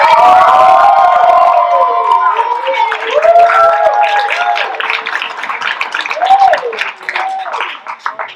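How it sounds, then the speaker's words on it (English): A comedy club crowd cheers loudly with high shouts and whoops over scattered clapping, the noise swelling and dipping in waves. "start clapping right now, start clapping right now"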